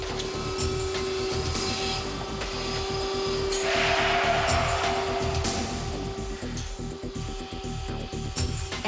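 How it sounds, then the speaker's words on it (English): A vacuum forming machine sucks the air out between a resin sheet heated to 180 °C and a mold for Japanese car interior parts. It gives a steady, loud mechanical drone, with a broad airy hiss swelling midway through. "Any air between the mold and the resin sheet is completely sucked out."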